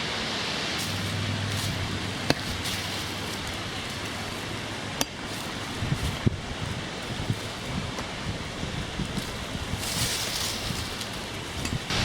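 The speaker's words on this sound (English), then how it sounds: "It's a very windy day" Strong wind buffeting the microphone on a very windy day while a driveway is dug by hand, continuous roaring rush with a few sharp knocks and gusts swelling near the end, no talk.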